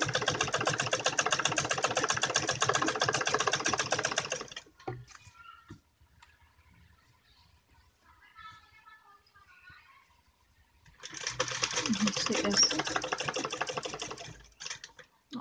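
Domestic sewing machine stitching fabric for a kurti and bolero jacket, a steady rapid mechanical whirring run of about four seconds, a quiet pause with faint handling, then a second similar burst, close and loud with no talk.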